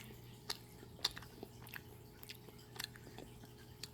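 Quiet close-up chewing of a hamburger-shaped ice cream treat with cheese, soft bites and crunches at irregular intervals over a low steady hum, no talking.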